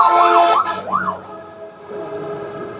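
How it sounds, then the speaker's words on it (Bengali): An ambulance siren wails through a few rising and falling cycles amid road traffic on the drive from Dhaka to Munshiganj, then fades under steady engine and road rumble. "বামে একটা অ্যাম্বুলেন্স আছে সাইড দিয়ে যাও"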